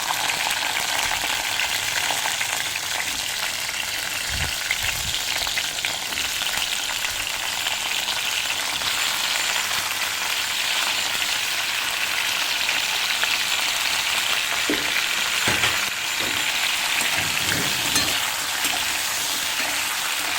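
Garlic frying in a pan over a low flame for pink sauce pasta, a steady close sizzle that runs throughout with occasional soft stirring knocks and no talk.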